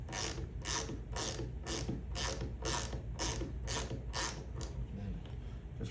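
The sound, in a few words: tightening a portable bearing roller swage tool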